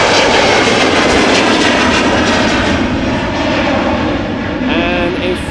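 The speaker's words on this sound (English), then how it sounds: "a chocolate livery Embraer 190, German Airways" An Embraer 190 jet of German Airways roars at Amsterdam Schiphol Airport, a loud, steady engine rumble and whine filling the whole stretch while a voice talks beneath it.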